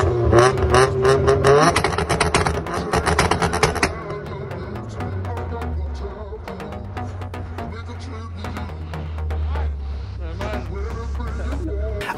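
Tuned VAZ 2110 with a 1.8-litre, 170 hp engine, individual throttle bodies and a Stinger 4-2-1 exhaust with dual straight-through pipes and AMG tips, revving in sharp bursts and then holding a steady low drone, close and loud, with some speech over it.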